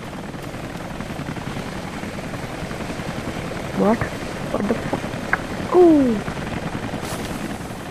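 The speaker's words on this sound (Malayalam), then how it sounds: "ഹെലികോപ്റ്റർ." A helicopter in the video game Rise of the Tomb Raider drones with a steady rotor rumble under the game's ambience, while a player talks and swears over it.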